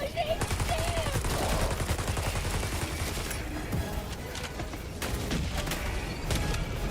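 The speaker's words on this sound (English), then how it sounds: "Okay, now my rifle works." Rifle gunfire in a video game, loud rapid bursts of automatic fire up close, with scattered shots and game sounds continuing afterward.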